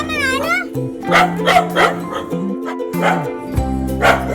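A dog barks and yips several times in short bursts, close by, with people talking around it and a whiny tonal sound at the start.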